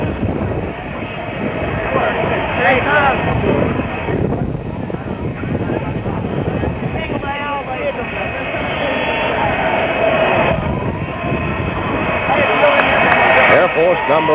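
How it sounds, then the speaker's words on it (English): Air Force One, the presidential jet, arriving at the Dallas airport in 1963, with a loud, steady roar of jet engines that swells near the end, heard under a crowd and a commentator talking. "Here comes the big jet in."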